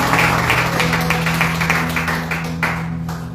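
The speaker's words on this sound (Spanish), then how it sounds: "Aplauda si le dolió." A church congregation bursts into dense, sustained applause, loud and steady across the room, thinning a little toward the end with no voices over it.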